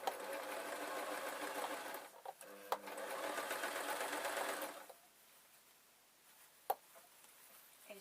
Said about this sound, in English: is just let this sewing machine do it